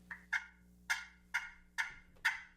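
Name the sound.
turkey gobble imitated with a turkey call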